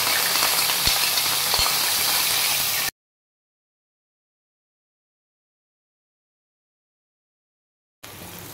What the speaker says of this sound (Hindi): सबसे पहले हम इसमें प्याज डालते हैं